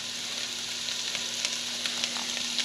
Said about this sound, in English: now we're going to put in our diced tomatoes